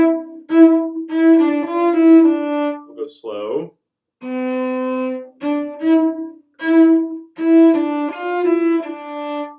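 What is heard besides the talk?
violin playing first two measures of Mozart piece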